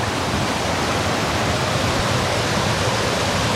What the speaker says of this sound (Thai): จะเป็นน้ำตกเล็กๆ แต่ก็โอเคนะ